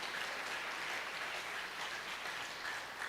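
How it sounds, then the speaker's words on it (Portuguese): A church congregation applauds steadily throughout, a faint, even wash of clapping with no voices. "Ah, vamos aplaudir o Senhor. Merece um aplauso."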